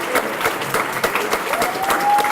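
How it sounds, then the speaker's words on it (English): Steady applause from a banquet audience for scholarship recipients, continuous clapping from a crowd with no pauses, fairly loud and even throughout. "Let's give them all another round of applause"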